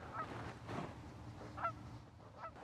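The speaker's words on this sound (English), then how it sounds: "Yeah, I got a goose coming in." Goose honking on approach at a winter trout-fishing spot, a few moderately loud calls spread over a low outdoor background.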